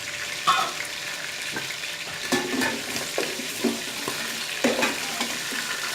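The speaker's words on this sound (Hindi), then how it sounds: "फिर इसको 2 से 3 मिनट आपने फ्राई करना है" Chicken for a desi murgh curry fries in a pan with a steady, close sizzle, punctuated by several clinks and scrapes of stirring spread across the span, no voices.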